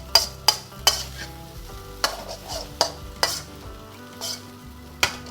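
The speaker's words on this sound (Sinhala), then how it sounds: "ෆ්‍රයිඩ් රයිස් හොඳට ෆ්‍රයි කරලා ගන්න" Fried rice is stir-fried in a pan, with sharp scraping clacks of a utensil against the metal repeating roughly every half second over a soft background sizzle.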